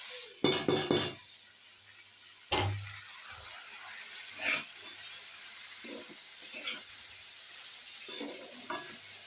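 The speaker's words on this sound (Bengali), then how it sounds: "এই যে এইবারে কিন্তু আমি পেঁপেটা দিয়ে দিচ্ছি" Papaya pieces drop into a hot pan with a sharp initial burst of sizzle, followed by quieter frying hiss and intermittent scrapes and stirs from a utensil, close and without talk.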